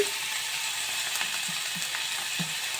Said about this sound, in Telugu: మరికొద్దిగా ఆయిల్ వేసుకొని మూడు జీడిపప్పు గుళ్ళు అలాగే ఒక ఏడెనిమిది వెల్లుల్లి వెల్లుల్లి రెబ్బలు ఉల్లిపాయలు ఇలా ఒక టమాటా వేసుకొని